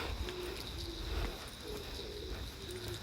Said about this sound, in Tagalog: ang ingay ng kalapati